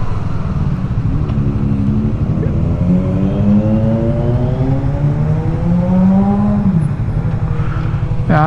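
A superbike passing on the road, its loud engine tone rising steadily then dropping away as it goes by, heard from inside a car.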